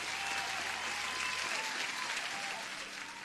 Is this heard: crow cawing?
no